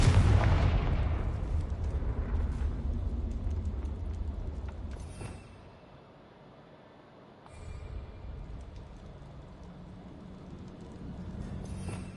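A Confringo fire spell bursts in a Harry Potter video game, a loud booming explosion that decays over several seconds, followed by a quieter lull and a second rumbling blast.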